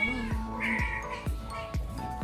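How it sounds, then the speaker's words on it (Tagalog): A domestic cat meows repeatedly and loudly close by, several drawn-out yowling calls in a row with no talk over them. "Ingay-ingay ng aking pusa."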